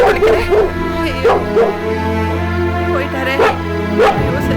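A dog barks and yips in a quick run of sharp, close calls over a steady low hum, with speech heard alongside.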